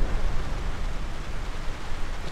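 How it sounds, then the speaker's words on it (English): Pouring rain in the game Grand Theft Auto San Andreas, a dense, steady broadband wash with no breaks, fairly loud and unaccompanied by speech. "Once again, it's pouring rain"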